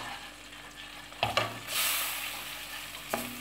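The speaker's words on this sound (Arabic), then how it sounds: "خصني نخلي زيت الزيتون يتحرق غادي نخلط هاد العناصر" Garlic frying in olive oil while being stirred, with a soft steady sizzle, a couple of sharp scraping clinks near the middle, a brief louder hiss swell, and one more clink near the end.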